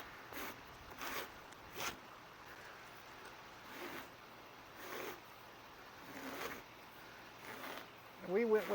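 Zipper being worked along an RV awning shade, a series of short rasping pulls spaced a second or so apart, fairly quiet and close, with a voice coming in at the very end.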